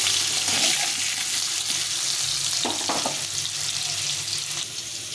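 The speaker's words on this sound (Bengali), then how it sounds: "একটু সময় ধরে আলুটা ভালোভাবে ভেজে নিতে হবে" Three potatoes fry in hot oil with a steady, loud broadband sizzle that runs the whole time, and a couple of brief scraping stirs come through near the middle, with no voices over it.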